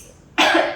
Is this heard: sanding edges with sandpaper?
no